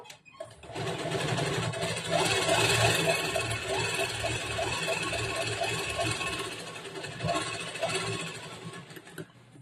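A sewing machine runs steadily through a princess-cut boat-neck blouse, humming continuously for nearly ten seconds at close range with a fast rhythmic stitching pattern.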